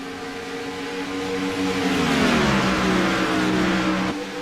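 Gen 6 race cars roar past in close racing, engines revving hard with a pitch that sweeps downward as they pass, loud and continuous with no voices.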